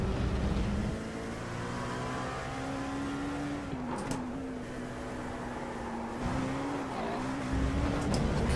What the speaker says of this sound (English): The car sounds like a bloody cow.